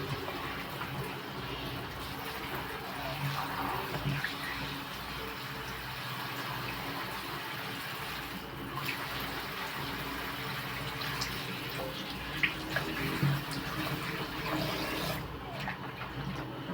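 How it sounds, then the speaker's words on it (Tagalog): Strong water gushes from a household tap fed by a motor pump, a steady rushing flow with splashing that continues throughout, with faint background noise. "Lakas po tayo ng tubig dahil mayroon po kami sariling motor."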